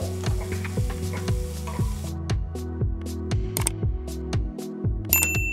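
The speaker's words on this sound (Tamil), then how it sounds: "வெங்காயத்தை நல்லா வதக்கணும்." Onions fry and are stirred in a pan for Achari chicken masala, the scraping and frying hiss partly masked by a steady backing of tuneful music.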